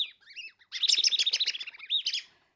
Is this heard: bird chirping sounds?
yes